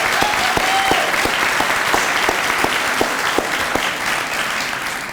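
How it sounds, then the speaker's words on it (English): Audience applause for a 40 under 40 award winner at a business awards event, dense steady clapping from a crowd held at an even level throughout, with a few sharper claps standing out. "So a little round of applause for Tyler for..."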